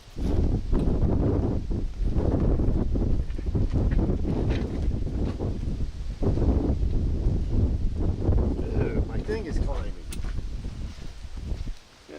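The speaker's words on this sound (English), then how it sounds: "I didn't think it was going to be this windy today." Gusty wind buffets the microphone at an outdoor air rifle range with a loud low roar, rising and easing throughout, with muffled voices faintly underneath.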